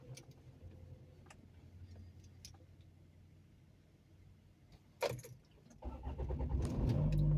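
A car starting off on a drive: a quiet cabin with soft ticking and small rattles, a sharp knock, then the engine and road noise swelling steadily louder toward the end.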